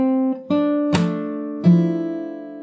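Fingerstyle acoustic guitar plays a short phrase from a song, four clear plucked note and chord attacks spaced unevenly, each ringing and decaying, close and alone.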